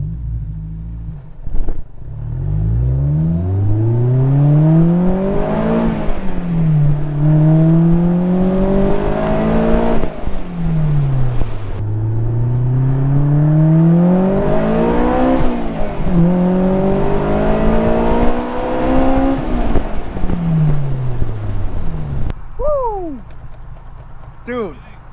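A Honda S2000 fitted with a GReddy Revolution RS exhaust revs repeatedly from close by. Its engine note climbs and falls in long sweeps, and people talk briefly toward the end.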